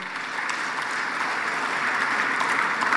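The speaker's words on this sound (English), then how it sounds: "Let's give him a round of applause." A large audience at an African heads of state energy summit claps steadily for an award winner honored for a clean cooking gas innovation, a dense even roar of applause throughout with no speech.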